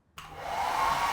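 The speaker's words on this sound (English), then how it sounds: "Using a hairdryer, he melts the pattern onto a thin piece of dark chocolate" A hair dryer switches on abruptly and blows steadily, its airflow rising slightly, as it melts cocoa butter flower patterns onto a thin sheet of dark chocolate mixed with glucose.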